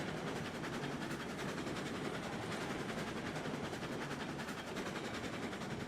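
A locomotive engine in the Railroads Online train game running steadily on the line, a constant dense rumble with a faint rhythmic clatter, fairly quiet and unchanging throughout with no talk.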